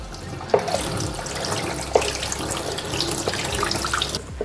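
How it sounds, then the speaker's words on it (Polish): Cold tap water runs steadily into a kitchen sink as cooked food is rinsed off, a continuous close splashing hiss with a couple of sharp clinks, no talk over it. "możemy po prostu to wziąć i spłukać się zwykłą zimną wodą."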